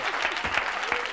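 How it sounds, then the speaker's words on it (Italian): A brief burst of applause from a studio audience on a 1982 Italian satirical comedy show, steady clapping heard at moderate distance. "Un applauso."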